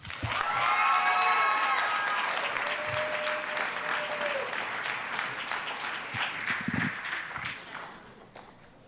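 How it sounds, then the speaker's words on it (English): Applause for graduates at a Kente donning ceremony, with a warm burst of audience clapping and a few cheers that peaks early and gradually thins out over about eight seconds. "Round of applause for all of our graduates."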